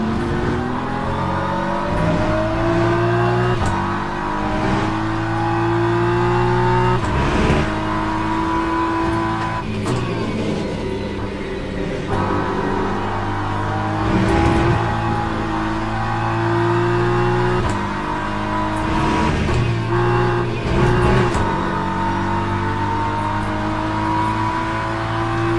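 GT3 race cars, including a Corvette and BMW, roar through a Le Mans Ultimate sim race, engines revving up and down through gear changes with overlapping cars close by, continuous and loud, no talking.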